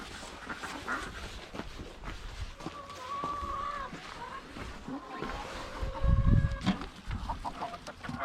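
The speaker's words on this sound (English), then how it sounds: "the chickens are waiting for us" Chickens cluck in short tonal calls close by, with shuffling movement and a louder burst of activity partway through, next to home-raised ducks on a large rural property in New Zealand; no talk is heard.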